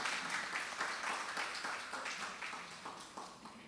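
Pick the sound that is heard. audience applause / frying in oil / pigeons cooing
audience applause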